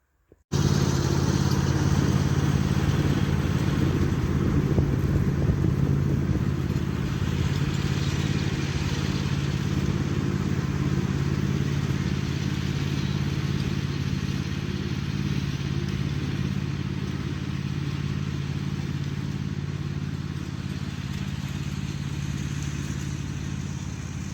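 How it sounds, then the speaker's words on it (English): A little red tractor's engine runs steadily at work along a wet woodland edge, a continuous loud mid-pitched drone with a slight clatter and no talk. "Little Red Tractor's working its socks off"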